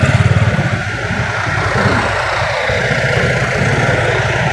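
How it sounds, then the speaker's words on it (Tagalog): A motorcycle engine runs nearby outdoors, a loud continuous low rumble with a rhythmic pulsing at the start, then a steady drone throughout. "Ito nga yung motor ng anak ko, dala ko."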